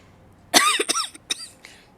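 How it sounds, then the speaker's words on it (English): A short coughing fit of a few harsh, close coughs in quick succession, the last ones trailing off, with no talking. "Sorry, had a small coughing fit there."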